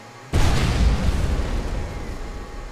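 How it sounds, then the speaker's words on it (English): Sudden heavy boom in the World War II shooter Enemy Front during an enemy attack, a loud close blast followed by a long rumbling tail that slowly fades. "They very much are shooting."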